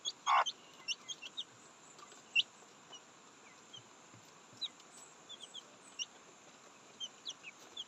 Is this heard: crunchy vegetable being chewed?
no